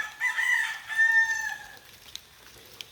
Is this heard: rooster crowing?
yes